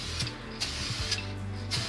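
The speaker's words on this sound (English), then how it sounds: "let you watch as I spray it so you can just see really about how light and how thin I'm actually spraying" A light, thin coat is sprayed on an inlay design, a steady hissing spray with a low mechanical hum and several short hissy bursts, close and alone.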